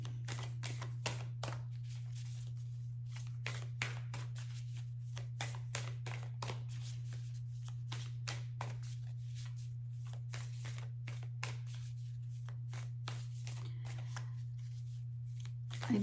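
Tarot cards get shuffled and drawn in a run of crisp, irregular flicks and snaps over a steady low electrical hum, close by and without talk.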